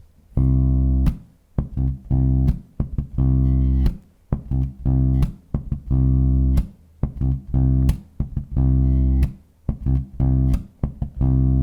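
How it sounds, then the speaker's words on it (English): A bass guitar plays a slow bass line of sustained low notes broken by short, muted ghost notes. The rhythm is steady and stop-start, close and solo with no voices. "So the overall bass line slowly sounds like this."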